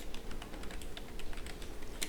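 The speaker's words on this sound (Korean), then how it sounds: "키보드 입력합니다." Rapid keystrokes on a computer keyboard while entering a chart title in a spreadsheet, a steady run of close, crisp clicks with one sharper tap near the end.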